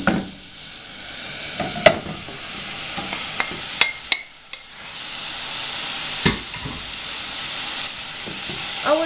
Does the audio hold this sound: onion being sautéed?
yes